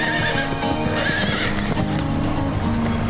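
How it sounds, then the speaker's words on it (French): Horses neighing and whinnying with clip-clopping hooves, loud and close throughout, with a busy stable-yard background. "Emmène les chevaux à Scott."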